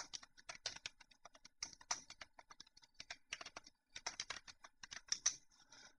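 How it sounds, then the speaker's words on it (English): Quiet, close clicking on a computer keyboard as a password is entered, with rapid uneven keystrokes in short bursts and brief pauses between them. "So I'm going to type my password in here."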